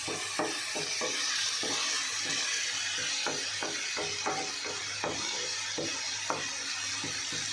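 Ginger garlic paste sautéing in a pan, a continuous close sizzle with repeated scraping stirs of a spatula at an uneven rhythm.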